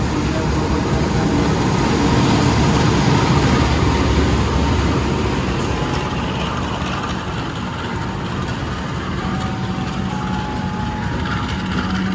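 A loud, steady rumble of the Kertajaya Tambahan train departing from a station on track 3 fills the whole stretch, with a faint tonal whine rising near the end.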